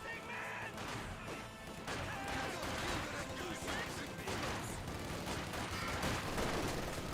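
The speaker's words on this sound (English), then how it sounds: "MG42 hitting the conscripts." Battle din from Company of Heroes 2 with a German MG42 machine gun hammering Soviet conscripts, a dense steady clatter of gunfire and impacts that runs through the whole stretch without a break.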